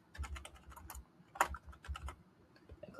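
Quick, close typing on a computer keyboard, a dense run of light key clicks with short pauses and one sharper tap, quiet and without talk.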